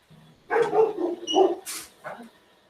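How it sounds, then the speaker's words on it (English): A dog barks indoors in a short cluster of yips and barks, fairly close and moderately loud, with brief whimpering tones, over a quiet room. "Oh, dog was barking."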